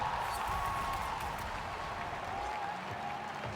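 A large esports arena crowd cheers and applauds steadily after a Rocket League goal, a dense, continuous roar of voices and clapping with faint whistles cutting through.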